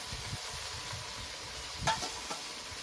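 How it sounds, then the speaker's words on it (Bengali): Kulekhara greens fry and get stirred in a pan as pre-fried fish heads are added, a steady low sizzle with soft scraping and one sharper clatter near the end. "শাক দিয়ে দিয়েছি এবার ভেজে রাখা মাছের মাথাগুলো দিয়ে দেবো"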